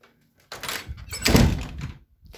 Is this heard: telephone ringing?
no